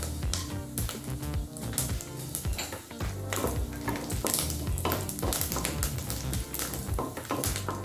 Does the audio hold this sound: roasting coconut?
yes